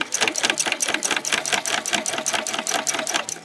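A sewing machine stitches through thick fabric scraps in a fast, even run of needle strokes, loud and close, with no talk over it.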